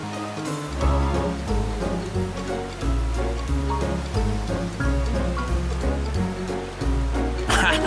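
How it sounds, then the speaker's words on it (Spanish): A cartoon water current surges toward a city, a loud continuous rushing and churning wash layered with music and effects, ending in a bright splashing burst. "haz una corriente de agua que vaya directamente a la ciudad"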